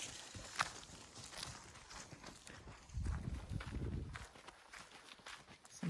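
Horses walk past on a hiking trail with soft, faint hoof clops on dirt, in a loose, uneven rhythm at a short distance, amid quiet outdoor ambience.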